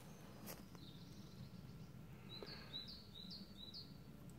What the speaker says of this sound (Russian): птицы слышны.